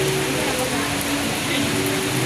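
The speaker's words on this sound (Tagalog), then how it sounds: "sobrang lakas ng ulan mga Kayotski" Heavy rain pours down steadily, a dense hiss with faint voices underneath.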